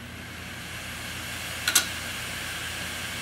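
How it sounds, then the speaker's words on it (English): An internal hard drive whirs steadily as its platters spin, then two quick, sharp clicks sound close together as the read-write heads move out of park, with the hum continuing alone afterward. "this is the typical click you hear at the beginning of a drive"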